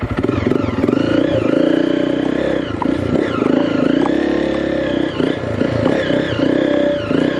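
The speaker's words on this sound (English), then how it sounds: "This bike has got a weird hesitancy to start." A motorcycle engine struggles to start, its loud, dense running sound wavering and sputtering unevenly for several seconds without a clean, steady idle.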